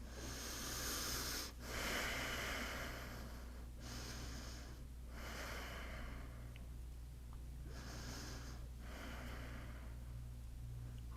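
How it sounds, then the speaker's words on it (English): Slow, deep yoga breaths, about five long airy inhales and exhales in a steady rhythm, close and soft against a low steady hum. "Take 3 more deep breaths here."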